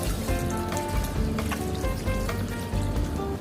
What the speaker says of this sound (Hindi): अब इसके अंदर हम पानी देते हैं।